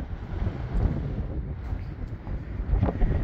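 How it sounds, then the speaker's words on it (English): Strong gusts buffet the microphone outdoors at a solar off-grid power setup, a continuous low rumbling roar that swells and eases without any talking. "sorry guys, it's super windy."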